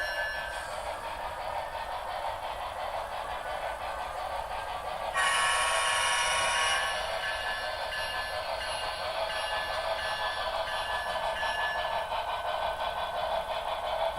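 Model locomotives, CSX and BNSF units, run on an outdoor sundeck layout, a faint steady whir and hum of motors that swells briefly into a brighter louder rush midway before settling back, no talking.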